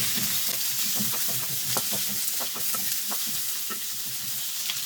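Cubed capsicum stir-fries in a hot pan, a continuous sizzle broken by a run of quick scraping and clacking stirs from a spatula, close and without any talk.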